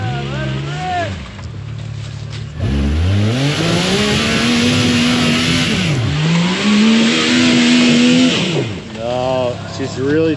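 A Can-Am Maverick X3 side-by-side revs repeatedly on a rough trail, its engine note climbing and falling in loud, close sweeps while people talk over it.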